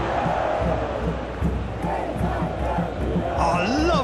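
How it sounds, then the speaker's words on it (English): Crowd cheering from an eFootball PES match, Brazil against Mexico in the Copa America final, a loud dense stadium roar that holds steady with a few rising whistles near the end, heard alone. "the crowd clearly liked what they just saw"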